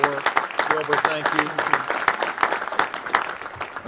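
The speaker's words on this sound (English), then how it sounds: "You can give the Secretary of Commerce a round of applause" Audience applause for the Secretary of Commerce at a formal event, a dense burst of many hands clapping close by, steady throughout with voices mixed in.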